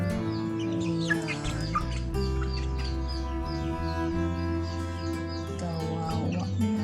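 Sick chicken clucking close by, a series of short strained clucks and harsh calls in uneven bursts, with another voice speaking softly in the background.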